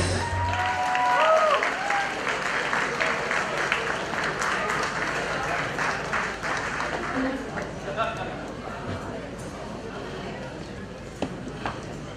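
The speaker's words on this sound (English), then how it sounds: "Another round of applause." Sustained applause from a sizeable audience, steady clapping filling the room with a few scattered cheers, fading slightly toward the end.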